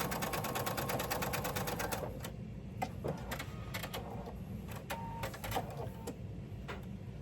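A sewing machine stitches fabric for crumb-pieced hexagons: a fast, steady burst of needle clatter for about two seconds, then scattered clicks and handling knocks over a quiet background.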